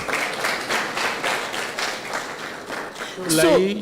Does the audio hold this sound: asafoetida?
no